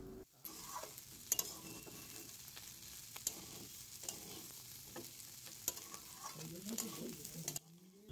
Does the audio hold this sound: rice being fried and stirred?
yes